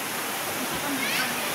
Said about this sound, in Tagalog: Grabe kayong kusog kayong tubig.